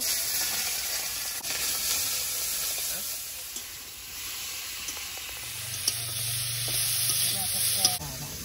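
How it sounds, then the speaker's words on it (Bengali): Prawns frying in oil in a wok, a loud continuous hissing sizzle close by with occasional spatters and a hum of background noise, no talk. "কড়াইতে তেল দিয়ে দেবো, চিংড়িটা একটু ভেজে নেব।"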